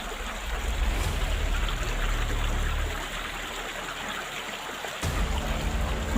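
Flowing stream water rushes and trickles steadily at a low level throughout, with no speech.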